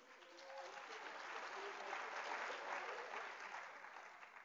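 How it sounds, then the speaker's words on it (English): A round of applause from a commemoration audience swells and holds steadily, somewhat distant and muffled, tapering slightly at the end. "Please stand up for a round of applause."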